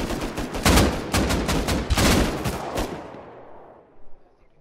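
Rapid gunfire bursts from the video game Rust, aimed at a garage door, loud and close for about three seconds before tapering off into a short trailing thump.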